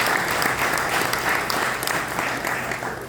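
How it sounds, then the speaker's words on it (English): An audience at a Kenya–America partnership event claps for teachers with a broad, continuous wash of applause. It holds at a moderate level from start to finish and is heard alone, without speech. "Wherever they are, please clap for the teachers."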